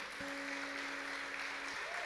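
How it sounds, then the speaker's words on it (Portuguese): A church congregation applauding, a dense wash of clapping filling the room, with a sustained tone sounding briefly underneath. "Você pode aplaudir Jesus."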